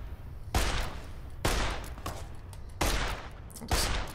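Gunfire in Fallout: New Vegas comes as four heavy, booming shots spaced about a second apart, each one ringing out and fading before the next.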